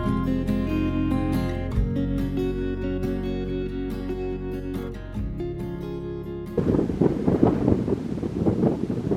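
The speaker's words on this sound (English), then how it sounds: "the wind and the mist have joined us early this morning" Strong, gusty wind buffets the microphone on the misty Great Ridge in the Peak District on a mid-September morning. It arrives as a loud, rough roar that takes over abruptly after a steady tonal hum.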